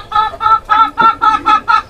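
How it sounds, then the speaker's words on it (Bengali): A golden, sturdy-bodied rooster inside a pigeon house gives seven loud, evenly spaced clucking calls close by, with nothing else heard around them. "দেখতে পাচ্ছেন সুদাম দেহের সোনালী মোরগ"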